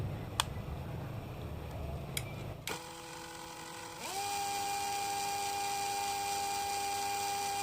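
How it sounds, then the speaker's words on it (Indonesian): An angle grinder spins a small generator built to power a 12 V lamp. After a few quiet clicks, a faint motor whine starts, then settles into a steady, slightly louder hum. "saya putar dengan gerinda ya"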